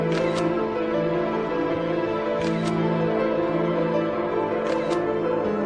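Camera shutter clicks in a movie scene, three sharp clicks spaced evenly over a steady background hum, each a quick double snap, with no voices.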